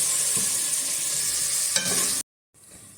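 Masala cooking in a pan, a close steady sizzle with stirring scrapes that cuts off abruptly near the end, then faint sizzle resumes.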